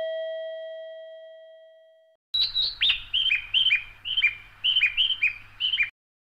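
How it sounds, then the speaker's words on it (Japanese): Guidance chime at a Japanese station ticket gate for visually impaired people: a steady electronic tone, a brief pause, then a run of rapid bird-like electronic chirps repeating in bursts. It is clear and alone, with no talk. "駅の改札でよく聞くこの音。"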